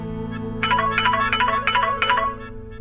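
Mobile phone ringing with a repeating melodic ringtone, bright pulsed notes over a steady low hum, fairly loud and close.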